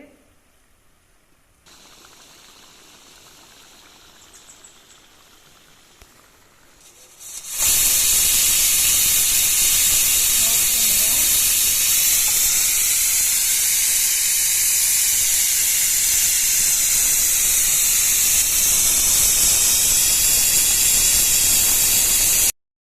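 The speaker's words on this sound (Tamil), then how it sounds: "குக்கர் சத்தம் வரபோது" A kitchen pressure cooker releases steam in a loud, sustained, high-pitched hiss that starts abruptly and continues nearby for about fifteen seconds, after a quieter stretch of faint room noise.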